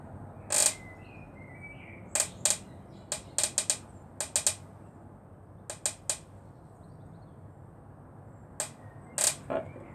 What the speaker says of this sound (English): I can't see where this squeaking is coming from.